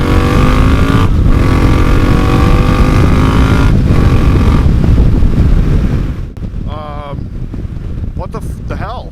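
A Triumph Bonneville T120 motorcycle with a Tec 2-into-1 exhaust rides past loudly, a steady engine roar with wind buffeting that drops off sharply partway, leaving fainter engine hum and passing vehicles.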